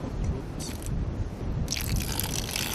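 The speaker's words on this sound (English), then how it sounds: "Then you pour your sugar solution" Sugar solution poured onto seed spread on a sack outdoors on a farm, a steady wet splashing and trickling under constant background noise, with brighter spatters near the end.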